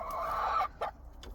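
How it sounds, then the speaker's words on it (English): Backyard chickens in a Minnesota winter give a run of soft clucking, one sustained call followed by two shorter, quieter clucks, fairly close with no talk over them. "And there's our youngest son's favorite chicken there hanging out in the back"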